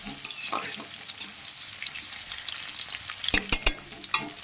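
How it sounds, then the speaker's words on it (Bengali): Potato pieces frying in a pan give a constant close sizzle, with a few sharp metallic scrapes and clinks of stirring near the end and no speech. "আলুগুলো আমি ভেজে নিই"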